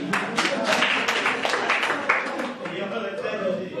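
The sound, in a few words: audience applause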